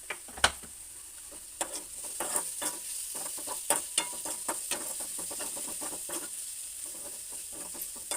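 Onion sautéing in a pan until transparent, a soft steady sizzle with frequent light scrapes and taps of a spatula stirring, close by and fairly quiet.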